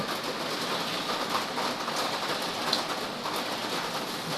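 Steady rain falls outside a house, a constant dense hiss of drops with faint scattered patters, close and unbroken for the whole stretch.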